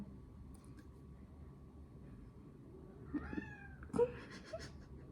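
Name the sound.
cat meowing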